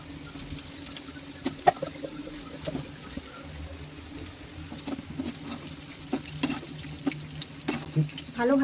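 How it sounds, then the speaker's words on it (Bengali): Small pieces fry in hot oil, a soft bubbling sizzle punctuated by scattered clinks and taps of a utensil against the pan. "এরকম ছোট ছোট করে এখন আমি সবগুলো তেলে ভেজে নেব"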